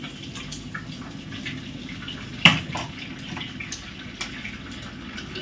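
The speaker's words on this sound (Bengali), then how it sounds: "দাঁড়াও, হাতটা ধুয়ে নিই।" Hands being washed under a running kitchen tap, a soft steady stream of water with a few sharper splashes and knocks near the middle, close by and with no talking.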